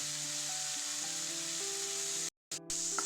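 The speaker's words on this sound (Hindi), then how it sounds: "अब किछ बेर प्याज टमाटर के भुजबे" Onion and tomato fry in a pan, a soft continuous sizzle with faint steady tonal hum beneath, close by, briefly cutting out near the end.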